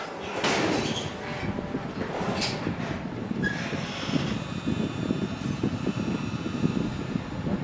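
A door in a room built over a grave opens and closes with soft creaks and a faint click, set against a steady, rumbling background hum, with no voices.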